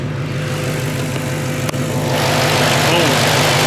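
A supercharged 6.2 liter V8 Hemi in a Dodge Hellcat Redeye runs at a steady idle, with a loud, dense, continuous engine rumble close by and a brief dip partway through.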